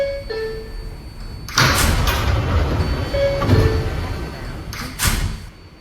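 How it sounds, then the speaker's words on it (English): A Manhattan-bound 4 train on the New York subway, its doors thudding shut with a sharp clunk, then rumbling and hissing as the car sits and moves, with chime-like tones and brief door sounds near the end. "Stand clear of the closing doors"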